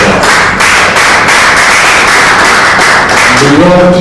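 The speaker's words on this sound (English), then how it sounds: "I think we should applaud them for that." An audience applauds at a World FM Day 2022 commemorative event, a dense, steady wash of many hands clapping throughout, fairly loud and continuous with a brief rise of other sound near the end.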